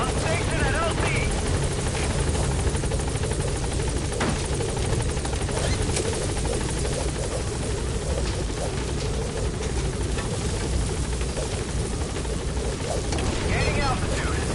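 B-Quad support helicopter hovering at a landing zone in Metal Gear Solid V, a loud, steady rotor roar with dense chopping throughout, radio voices and game sounds layered over it.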